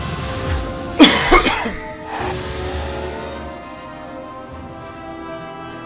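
A person coughs hard twice in quick succession, loud and close, followed by a softer throat-clearing rasp, then quiet low background hum.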